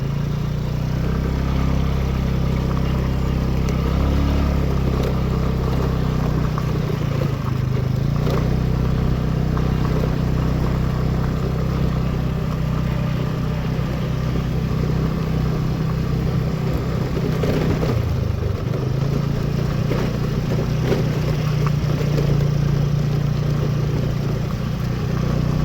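A motorcycle engine drones steadily on a road trip out of Hyderabad, a constant mid-pitched hum with slight shifts in tone, close and alone without talk.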